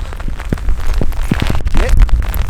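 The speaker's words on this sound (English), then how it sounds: "That's hailing. That's not rain. That is bloody hail." Hail mixed with rain clatters on a windswept Luskentyre beach in the Hebrides, a dense, loud patter of icy pellets with gusty wind noise and no voices.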